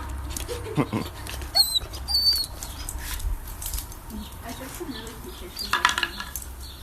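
A two-month-old Labrador and German Shepherd mix puppy makes small whimpers and yips close by, scattered brief sounds among light clatter and household background.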